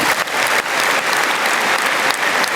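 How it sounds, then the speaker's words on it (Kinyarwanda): A church congregation at a Rwandan testimony service breaks into loud, sustained applause, a dense wash of many hands clapping continuously close by. "Yesu ntimwamumpera amashyi menshi cyane."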